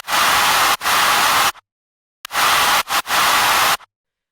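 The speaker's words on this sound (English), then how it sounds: "Used white noise and crowd effect to fill out the frequency spectrum and to enhance dynamics." Loud bursts of white noise in a rock future bass track, gated into rhythmic chunks: two long hisses, a short silence, then a quick stuttered hit leading into another long sustained wash, with no voice.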